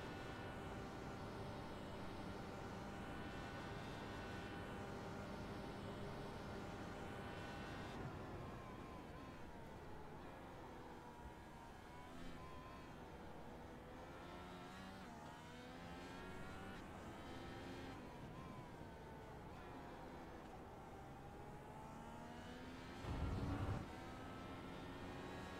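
A loose IndyCar in the iRacing game brakes hard at Indianapolis Road, the engine note winding down in falling whines, with tonal engine harmonics sliding downward, a steady mid-level drone, and a brief louder burst near the end.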